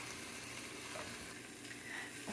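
Carrots, onions and garlic sizzling in a pot for vegan green curry lentil soup, a steady quiet hiss of frying with no talking.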